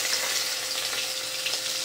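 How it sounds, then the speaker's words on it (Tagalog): Garlic sautéing in hot oil in a pan, a steady, moderately quiet sizzle and crackle running without pause and with no talk over it. "gigisa tayo ng bawang"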